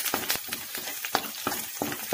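Garlic sizzles in a hot pan with onion while it is stirred, giving loud crackling frying with rhythmic scraping bursts of the spoon, close up.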